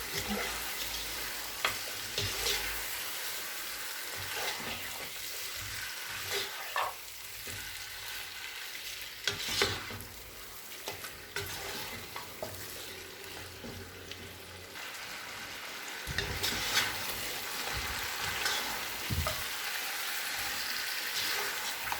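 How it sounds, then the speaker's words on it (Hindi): Meat (gosht) is stirred and fried in onion masala for aloo gosht, giving a steady close sizzle with repeated scraping stirs of a spoon against the pan, no talk over it. "अब हम इसमें गोश्त शामिल कर देंगे। फिर अच्छे से मिक्स कर देंगे।"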